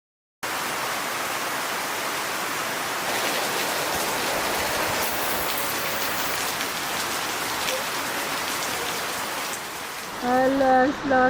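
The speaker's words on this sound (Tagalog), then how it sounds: "Alas, lakas ng ulan" Heavy rain pours steadily near a river in Mindoro, Philippines, a loud even hiss lasting many seconds, with a brief voice breaking in at the very end.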